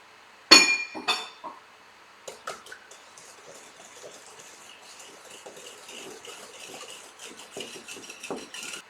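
Butter mochi batter of sugar, butter and eggs being mixed in a bowl: a couple of sharp clinks against the rim at first, then a stretch of soft, steady stirring and scraping of a utensil, quiet and close.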